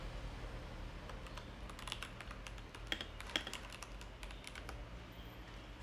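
Typing on a computer keyboard, a quiet continuous stream of light key clicks with a few sharper taps, close and alone over faint background hum.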